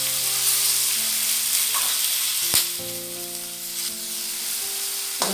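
Curry leaves, turmeric and cucumber pieces sizzle loudly in hot oil in a pan, a constant close frying hiss with a sharp crackle midway.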